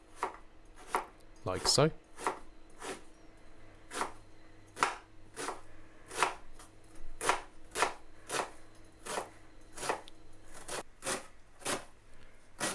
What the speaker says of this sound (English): slice your onion into lots of tiny little pieces